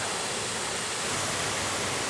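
A waterfall at an Ozarks campsite pours with a steady, broad hiss of rushing water, constant and fairly close, with no other sounds.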